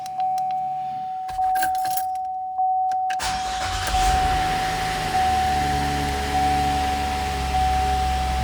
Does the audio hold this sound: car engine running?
yes